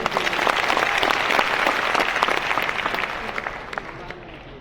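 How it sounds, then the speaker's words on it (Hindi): Audience applause fills a hall at a Safe Shop leadership event in Patna, Bihar: dense, steady clapping from a large crowd that holds loud for about four seconds, then thins and fades toward the end. "एक जोड़ा ताली इनके बच्चे के लिए"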